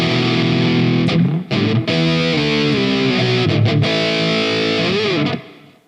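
Electric guitar played through a distortion effect from the Tonebridge app, loud sustained distorted chords with a few sharp breaks and slides, ringing out and fading at the end.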